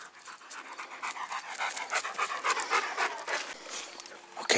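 A Rottweiler pants in quick, steady breaths, close by, with a rhythmic airy huffing and faint whimpering edges; no talking.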